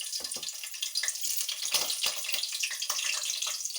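Green chilies and cumin seeds crackling in hot oil for a prawn curry, a close, busy sizzle full of irregular pops and spatters that continues without pause, no speech.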